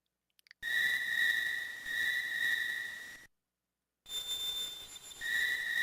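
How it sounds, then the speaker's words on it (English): Shrill, steady cicada-like background drone from the video game Final Fantasy V Advance, two sustained high whistling tones that cut out briefly and return, loud and piercing with nothing else over them. "Is that supposed to be like cicadas or something?"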